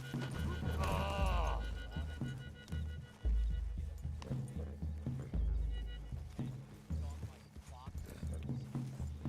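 Steady clip-clopping hooves in a game, with a brief whinny early on, under continuous talking and a dense, loud background.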